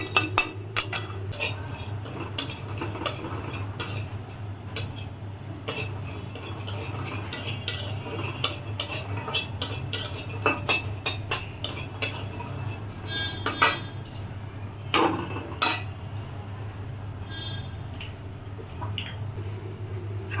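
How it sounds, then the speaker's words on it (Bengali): Lentil dumplings (bori) dry-roasting in a wok, stirred with a utensil that scrapes and clinks against the metal in irregular bursts over a steady low hum, with no talking. "আমি আগে একটু কড়াইয়ের মধ্যে টেলে নিচ্ছি।"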